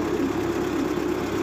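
Town hall tractor engine running steadily with a low, even rumble and chugging drone, close and unbroken throughout.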